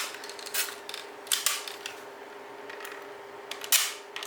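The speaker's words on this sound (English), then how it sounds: "So you can actually see the shutter moving" Faint mechanical clicks and snaps from the shutter and aperture mechanism of a Nikon AF600 28mm f3.5 lens, a few sharp ticks spaced out over quiet room noise.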